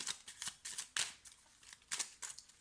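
Cards are handled and drawn from a deck in soft, quick riffling and flicking bursts, close and quiet, several short swishes spread across a few seconds.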